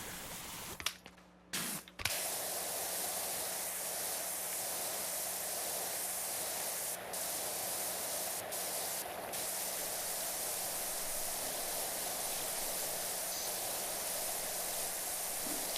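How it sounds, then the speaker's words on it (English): A pressure washer sprays soap in PowerWash Simulator 2, a steady broadband hiss running almost unbroken after a couple of brief stops and restarts near the start. "Use our soap. Spray this area down."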